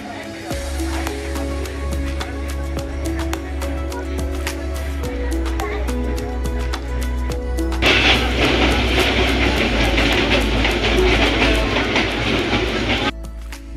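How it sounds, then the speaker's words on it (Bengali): Dhumketu Express passenger train pulling into Airport railway station in the early morning, a loud continuous rumble with rhythmic wheel clatter that grows harsher and brighter partway through, then cuts off near the end. "সকাল 6:30-এর মধ্যে আমাদের ধূমকেতু এক্সপ্রেস ট্রেনটি চলে আসে।"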